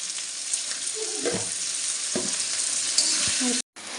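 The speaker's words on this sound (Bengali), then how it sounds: "এই যে পেঁয়াজটা ভাজা ভাজা হয়ে গেছে" Chopped onion fries in a pan with salt, a bright steady sizzle with scraping stirs, which cuts out abruptly near the end before resuming briefly.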